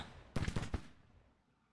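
Volley of musket gunfire in an American Civil War strategy video game, a quick burst of about five sharp cracks in a row, loud and close, then a fading rumble with no talk.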